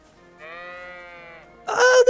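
A single sheep bleats in the medieval video game Kingdom Come Deliverance II, played in VR: one clear, drawn-out wavering bleat, fairly close, followed by a short burst of louder noise.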